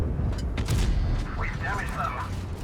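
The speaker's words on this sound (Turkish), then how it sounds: "burada K2'ye de rahat rahat atışlarımızı yapıyoruz" Tank cannon fire in the World of Tanks video game, with a heavy boom and rumbling blasts early on, followed by softer game sounds while someone talks over them.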